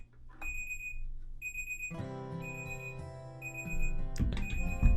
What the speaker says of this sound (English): listening to the alarm go off